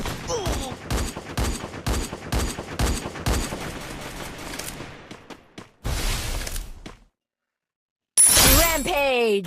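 Gunfire in the mobile shooter game Free Fire, a rapid burst of sharp shots followed by a noisy stretch, a brief silence and then a loud final blast with sweeping effects.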